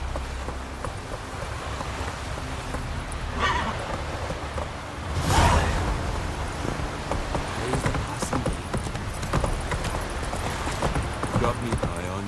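Roach, the horse in The Witcher 3, gallops with a steady rapid clip-clop of hooves over wind and game ambience, and a loud whinny breaks in midway.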